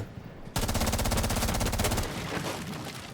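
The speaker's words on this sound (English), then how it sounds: "He's shooting in smaller bursts" Rapid automatic gunfire from an online shooter game, a dense sustained burst that starts abruptly and runs about a second and a half before easing into scattered shots and reverberant tail, loud and close with no talk over it.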